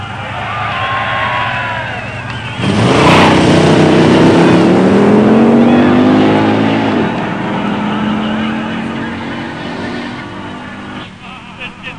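A 1963 Dodge with a 426 Max Wedge automatic and a 1970 GSX Stage 1 automatic launch at a drag strip, engines roaring loud and close, then sustaining a rising, droning pull as they run down the track.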